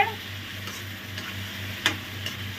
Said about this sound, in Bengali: এখন ভালোভাবে নেড়ে টেড়ে